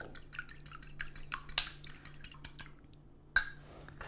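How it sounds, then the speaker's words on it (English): A fork lightly beats an egg in a bowl for a chocolate biscuit mixture, making a quick run of close, rhythmic clinks and taps against the bowl, with a pause and then one sharper knock near the end. "I'm going to lightly beat it with a fork"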